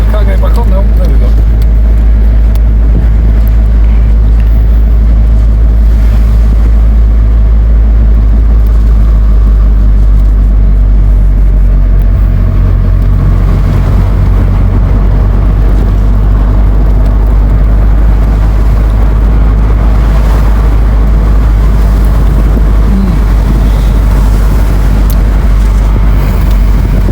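A BMW Z3 with the roof down drives along with a loud, constant engine and wind roar that swamps the recording, road rumble underneath, and a voice speaks over it.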